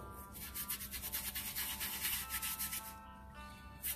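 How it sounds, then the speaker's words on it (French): Small brush scrubbing a polishing pad sprayed with cleaner: fast back-and-forth bristle rubbing, close and continuous, with a rhythmic swishing texture and no talk. "On va venir en mettre un petit peu avec le sprayer et frotter avec la petite brosse"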